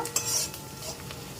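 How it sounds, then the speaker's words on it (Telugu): Onions frying in a pan until brown, a soft sizzle with a spoon scraping and stirring through them, a few brief metallic clinks, close and fairly quiet with no talking. "ఆనియన్స్ బాగా వేగేయండి, ఇంకొద్దిగా బ్రౌన్ కలర్ వచ్చేదాకా ఇంకొంచెం వేయించుకుందాము."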